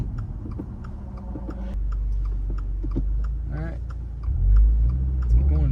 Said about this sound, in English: See how I kind of pumped the throttle real quick?